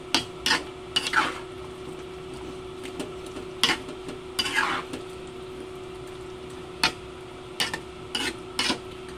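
Pork and chicken afritada stirred in a pan: sporadic scraping and clanking strokes of a spatula against the pan over a low constant hum and faint simmer, close by, in irregular bursts with pauses and no talking.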